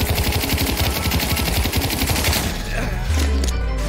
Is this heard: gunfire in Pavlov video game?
yes